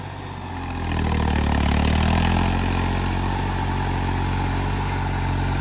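A Deutz Fahr 70 hp tractor engine starts up and then runs at a steady, loud, close idle-like drone with a slight clattering texture, with no voices.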